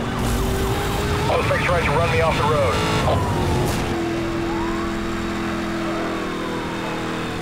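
A police car siren in the racing game NFS Hot Pursuit Remastered wails up and down over a constant roar of engines, then fades back into the steady driving noise.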